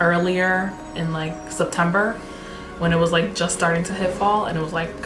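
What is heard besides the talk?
No everyday noises stand out.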